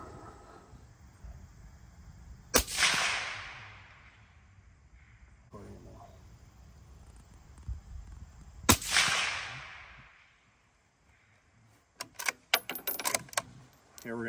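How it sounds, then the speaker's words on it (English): Rifle shots fired through a PARD DS35 night vision scope, two sharp loud cracks a few seconds apart, each trailing off in a short echo, followed by quieter clattering clicks and knocks. "I'm going to shoot a little group and we'll see how we do here."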